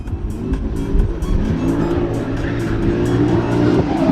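Race car powered by a 6.2 AMG V8 engine, loud and close, revving hard with rapid throttle changes and tire squeal during an attack through a corner at a Croatian motorsport event.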